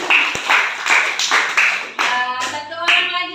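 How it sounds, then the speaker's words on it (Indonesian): A classroom of students claps together in a rhythmic, chant-like pattern of loud, evenly spaced bursts of hand claps, close by. Voices join in toward the end. "beri tepuk tangan dulu"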